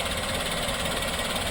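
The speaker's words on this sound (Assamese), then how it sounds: "চাউণ্ডটো শুনিছে ইঞ্জিনৰ" A Maruti WagonR VXI car engine idles with a steady, even hum, recorded close by with no talking.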